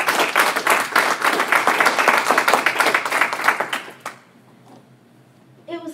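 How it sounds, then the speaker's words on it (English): Guests at a magazine launch and awards night clap loudly for about four seconds, the applause fading out into quiet before a voice begins to speak. "So round of applause to yourselves and to the work that these organizations are doing."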